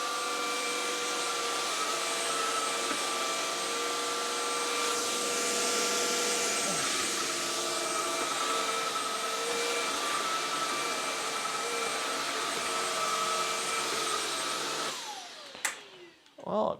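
A Neakasa PowerScrub II wet floor cleaner runs in its high rug mode, a loud steady motor whine and suction roar that continues without talk, then cuts off with a few clunks at the end.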